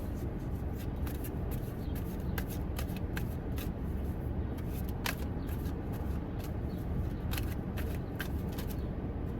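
A deck of cards is shuffled repeatedly during a card reading, a steady stream of close riffling and slapping sounds with no voices.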